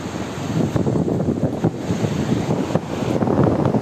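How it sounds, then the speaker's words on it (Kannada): Rough sea at Ullal near Someshwar, Mangaluru, with loud continuous surf rumbling close by, mixed with heavy wind buffeting the microphone. "ಸಮುದ್ರದಲ್ಲಿ ಅಬ್ಬರ ಮಾತ್ರ ತೀವ್ರವಾಗಿ ಜಾಸ್ತಿ ಆಗಿರುವಂಥದ್ದು"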